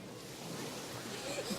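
Ocean waves washing onto an Outer Banks beach beside a beachfront house, a soft, steady surf hiss mixed with faint wind noise, heard quietly from a distance.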